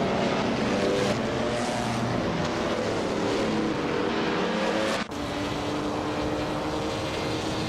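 Race cars in a video game race, including a 1951 Alfa Romeo 159, give a continuous loud engine drone with shifting pitch and a brief dip partway through.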